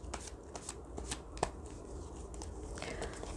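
Oracle cards being shuffled by hand, a close rapid riffle of papery flicks and slaps lasting a few seconds, fairly quiet.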